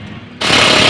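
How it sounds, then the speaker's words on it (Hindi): A pneumatic impact wrench bursts into a loud, close, continuous rattling whir while tightening gearbox mounting bolts on a Mahindra Bolero pickup during a clutch plate job. "इसका जो माउंटिंग है वो कसा जा रहा है।"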